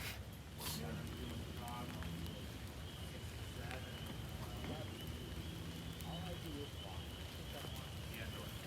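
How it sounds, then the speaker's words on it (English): Steady rain falls around a shelter on the Appalachian Trail, a soft, even hiss of drops on the roof and surroundings that stays constant throughout, faint and distant, with low voices murmuring underneath. "And it's raining. It's been raining since early this afternoon."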